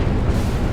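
Heavy naval gunfire in a warship battle in the game Sea Power, a dense continuous rumble of booms and blasts with no separate shots standing out, loud and alone.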